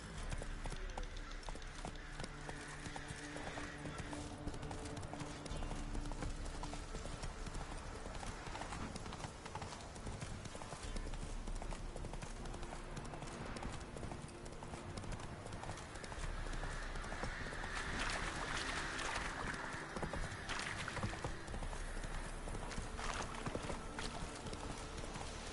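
Geralt's horse Roach galloping in the video game The Witcher 3: Wild Hunt, a quiet, rapid, steady clip-clop of hooves running on without a break, with brief game sounds and snorts mixed in.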